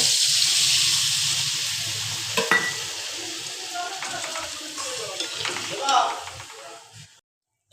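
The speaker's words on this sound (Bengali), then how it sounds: "এই দেখো ঝোলটা কি সুন্দর ফুটছে" Thin rohu fish curry bubbling and sizzling as it boils in a pan, with occasional spoon clinks and stirring, fading out at the end.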